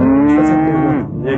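A calf gives one loud, close, sustained moo with a clear pitched tone that bends downward toward the end, heard alone with no other sounds.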